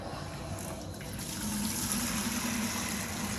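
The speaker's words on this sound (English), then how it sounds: "Now this water is very hot coming out of the water heater." Very hot water runs from a water heater's drain valve into a bucket, making a steady gushing, trickling rush that grows louder and fuller midway and stays constant.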